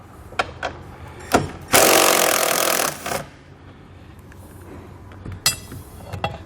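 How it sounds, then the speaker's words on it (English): A 12mm socket tool loosening a bolt at a vehicle's factory ground point, with scattered clicks and taps and one loud, rasping burst of about a second near the start, followed by quieter handling. "we can loosen up the bolt and take a 12mm socket."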